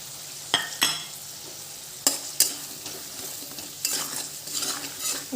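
Kochur lati and jackfruit seeds being stir-fried with ground spices in a pan, with a few sharp spatula scrapes and clinks over a soft, steady sizzle, the stirring growing busier toward the end.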